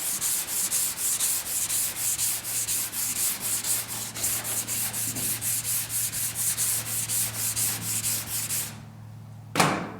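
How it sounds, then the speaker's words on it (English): Steady rhythmic sanding strokes rasp back and forth over a Pontiac GTO quarter panel under a low motor hum, ending with a sharp bump. "let me release all the pressure off so I'm not pushing out when I'm sanding"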